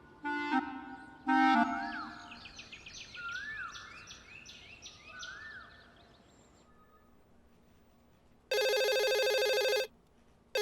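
Telephone ringing in a women's police station in Lucknow: a short electronic ring burst near the start, birdlike chirping tones, then a long loud steady ring near the end, with no talk.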